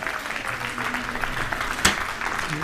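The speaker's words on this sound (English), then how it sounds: "There's the crowd." At the final of a national 8-ball pool superleague, a crowd applauds in a dense, steady wash of clapping, fairly loud and sustained throughout, with a brief sharper clap near the end.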